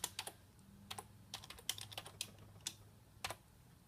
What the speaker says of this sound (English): I don't like Dr. Slanning's keyboard either